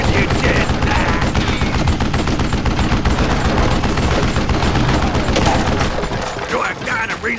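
Dense, continuous gunfire from a Wild West shooter game, rapid overlapping shots forming a loud fusillade with a voice talking underneath, easing slightly near the end.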